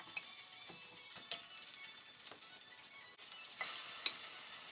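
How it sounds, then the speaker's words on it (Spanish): Chicken pieces half-frying in a little oil in a saucepan, giving a steady, quiet sizzle with occasional stirring clicks and scrapes, close and alone. "En lo que el pollo se está medio sofriendo"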